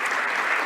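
A brief, steady burst of audience applause for a seminar presenter, a dense wash of clapping heard alone.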